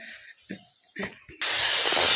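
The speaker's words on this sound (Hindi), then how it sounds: "कुकरवा हमार सीटियाँ लगातार देता ही जा।" A few brief quiet knocks and sounds, then a sudden loud, steady hiss of steam bursts from a pressure cooker whistle cooking dal and continues to the end.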